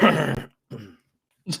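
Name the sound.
throat clearing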